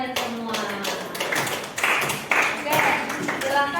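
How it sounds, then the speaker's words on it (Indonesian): Classroom group claps hands together in a lively, continuous burst of close, bright claps, with voices mixed in. "Tepuk tangan dulu buat kalian semua"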